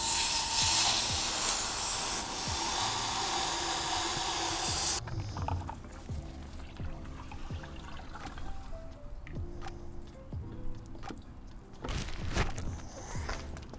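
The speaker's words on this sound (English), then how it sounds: "maybe the spray nozzle isn't the best." A strong, steady hiss of water spraying from a hose nozzle during setup of a 2021 GeoPro 20BHS camper trailer for about five seconds, then it cuts off, leaving quieter dripping, clatter and handling noises.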